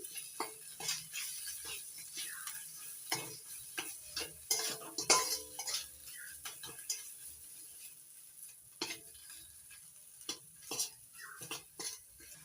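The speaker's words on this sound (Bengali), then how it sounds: "এবার মশলাটা ভালো করে কষিয়ে নিচ্ছি" Spice masala with chilli paste and salt being stirred and fried in a pan for a potato and cauliflower dish, quiet intermittent spoon scrapes and clinks against the pan over a faint sizzle.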